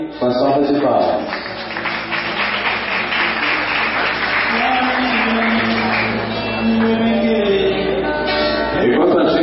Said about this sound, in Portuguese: a gente também acolhe com as salvas de palmas